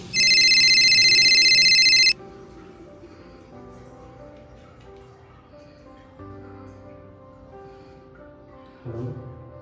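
A telephone rings loudly with a bright electronic tone for about two seconds, then stops, leaving a quieter room with faint background sounds and a brief bump near the end.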